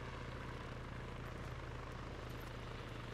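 Steady low rotor thrum of a helicopter in the Arma 3 military game, a continuous dull drone holding at even level throughout with no talk over it.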